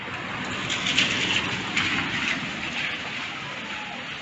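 Steady heavy rain falls continuously, a dense close hiss with slight surges in intensity and no pauses.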